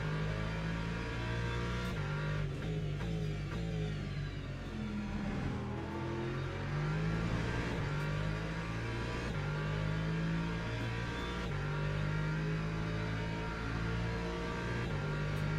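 Several race cars roar continuously through a sim racing game after a pit-lane start, engines droning and shifting pitch as they jostle through corners, loud and steady with no pauses.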